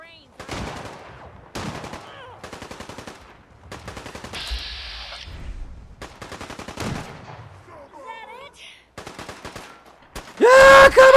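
Repeated bursts of heavy gunfire in Fallout 4, a combat shotgun among other weapons, clustered volleys separated by short pauses, with a loud chaotic flare at the very end.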